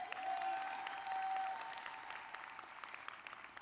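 A convention audience at an NAACP national gathering gives a round of applause: broad, even clapping from a large hall crowd, strongest at first and gradually thinning toward the end, with a faint tone briefly sounding over it.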